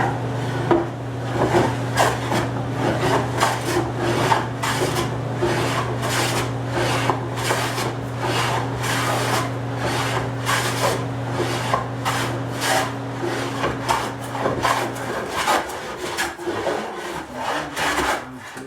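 Wooden sides of a curved blockfront dressing table being flattened by hand, a steady rhythmic rasping and scraping that runs the whole time, loud and close, over a constant machine hum that cuts out near the end.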